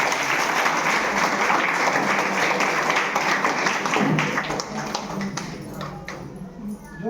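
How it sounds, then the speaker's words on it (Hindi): Children at a Teachers' Day school event clap loudly in a dense, sustained burst of applause that tapers slightly toward the end, with a few voices mixed in. "जोरदार तालियां बच्चों।"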